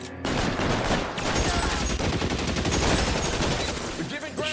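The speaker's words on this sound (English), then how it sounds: "Let's get our own machine gun" Sustained machine gun fire in the 1940s crime game LA Noire, a loud, dense stream of rapid shots beginning abruptly and continuing nearly unbroken for several seconds, close and dominant.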